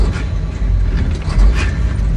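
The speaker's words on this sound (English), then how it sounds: "Ah, I shifted way too early." A gear shift in an International truck gives a short burst of mechanical clunking and grinding from the gearbox. It sounds close and fairly loud over the low drone of the engine.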